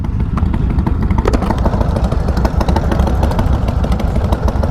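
A green motorcycle's engine runs steadily close by, a dense rumbling drone that stays loud and even throughout, with no voices over it.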